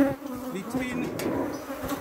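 A close, continuous drone of many honey bees around their hive, the buzzing thick and wavering with small surges throughout, with no one speaking.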